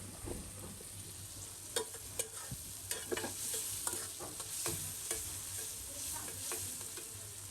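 Onions fry in hot oil with a constant sizzle, broken by spoon taps and stirring clatter, heard close up under a low background hum and without speech.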